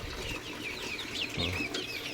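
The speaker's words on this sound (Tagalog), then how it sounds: "ganda na ng laki ng ating mga manok oh" Chickens cluck and chirp softly in a steady chorus, with a louder clucking call near the middle, against a constant background hum.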